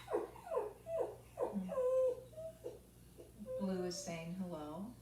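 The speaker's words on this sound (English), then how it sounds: "my dog. He's feeling a little whimpery today, a little neglected." A dog whimpers indoors, making a series of high, sliding whines and short cries that rise and fall over several seconds. The sound is fairly soft and close.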